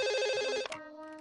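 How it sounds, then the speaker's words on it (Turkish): A telephone ringing close and loud with a bright electronic trill that pulses rapidly, then cuts off abruptly and gives way to a softer lingering tone. "Telefon çalıyor."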